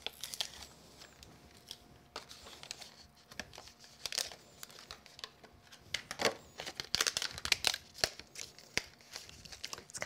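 Tape peels off a craft die cut in a quiet room, giving a series of close crinkling, tearing rips in irregular bursts that grow busier toward the end.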